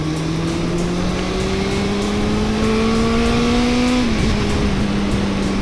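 Honda CB400SF motorcycle engine running steadily and loud up close, a smooth inline-four drone that rises slightly in pitch then drops back near the end, with no talking.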